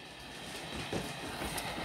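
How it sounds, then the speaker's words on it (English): A double freight train in the Roblox video game rolls along in a steady, faint rumble with soft rhythmic wheel clatter and no voices. "turned out that Pacific Green was right, because his double freight train is going to the tunnel."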